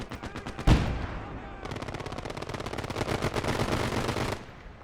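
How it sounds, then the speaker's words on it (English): Rapid machine gun fire in a World War II video game, a sharp blast near the start, then sustained automatic bursts rattling loudly and continuously for several seconds before cutting off. "just let them MG those guys to death."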